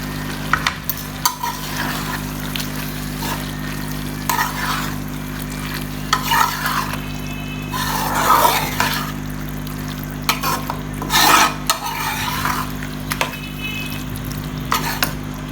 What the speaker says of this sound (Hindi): अब हम इसमें एक जो है ना प्याली केचप भी मिक्स कर रहे हैं